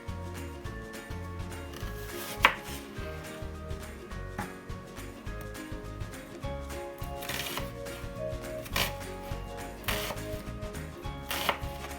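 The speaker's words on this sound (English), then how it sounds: "So guys, I don't like the taste of raw onions, so I chop them up fine." Onions being chopped finely on a cutting board for macaroni salad, a steady run of quick knife taps with a few sharper, louder strikes, close and clear with no talk.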